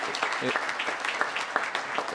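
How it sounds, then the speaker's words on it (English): Audience applause at a university inauguration ceremony, a steady dense patter of many hands clapping throughout, with a voice briefly audible under it. "I'd just like to give a round of applause for his leadership"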